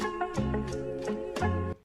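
Short sampled guitar phrase, pitched up slightly, from a hip-hop verse groove: a few plucked notes with sustained tones, clear and alone, then cut off.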